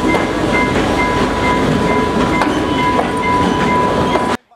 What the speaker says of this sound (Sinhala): පොලිසිය මැදිහත් වීමෙන් තෙල් රැගත් දුම්රිය පිටත් කර හැරුණා